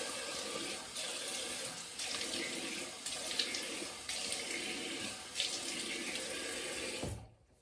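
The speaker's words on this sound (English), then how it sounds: "So just rinsing the alum off." Tap water runs steadily into a sink for several seconds as alum is rinsed off a freshly shaved face, with small splashy shifts in the flow before it cuts off at the end.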